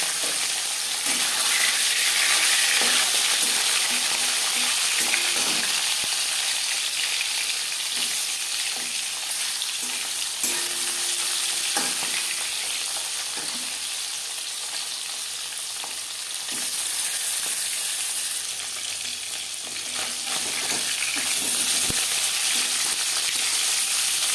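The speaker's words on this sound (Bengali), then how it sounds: "4-5 চামচ সর্ষের তেল গরম করে নেওয়ার পর দিয়ে দেবো ইলিশ মাছ।" Loud, continuous sizzling of hilsa fish frying in mustard oil, a dense crackling hiss that holds steady with slight swells, close up and without voices.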